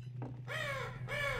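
Two harsh crow caws in the game Half-Life 2, in Ravenholm, close and loud, one after another with a short gap, over a steady low hum.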